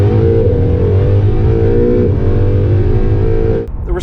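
The hybrid V6 powertrain of a 2021 Honda NSX supercar accelerates hard and loud from close up, a steady rising engine note that holds for several seconds before it briefly drops away.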